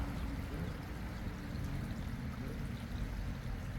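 A creek flows past in a steady, soft rushing wash of water, continuous and fairly faint, with no voices over it.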